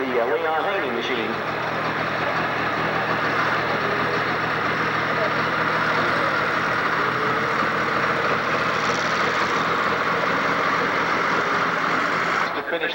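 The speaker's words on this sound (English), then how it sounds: "last look at an orange tractor coming up right now" An orange Agco Allis pulling tractor at a 1996 tractor pull in Madisonville, Kentucky roars with a loud, steady, continuous engine drone that holds for the whole stretch before cutting off near the end, with an announcer talking over it.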